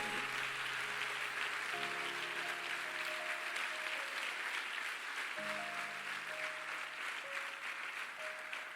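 Steady, dense applause fills a church service, sustained for several seconds at an even level, with soft keyboard notes sounding faintly underneath.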